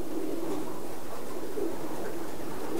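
A racing pigeon gives soft, low cooing notes at close range, a couple of rounded calls repeated over a brief moment with no talk.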